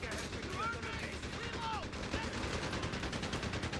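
Anti-aircraft gun fire in the strategy game Company of Heroes 3: rapid, continuous bursts of gunfire rattling through a dense battle din, with a couple of short whistling streaks overhead, loud and sustained throughout.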